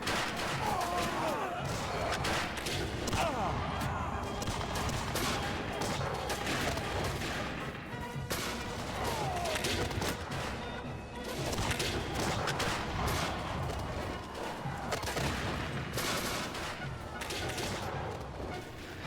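Volleys of musket shots and heavy booms of cannon fire ring out continuously, loud and chaotic, in a sprawling video game battle against British soldiers with little pause.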